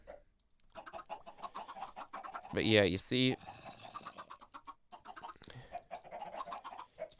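Minecraft chickens in a chicken farm cluck in the background, with a louder burst of clucking midway, while a person talks over them.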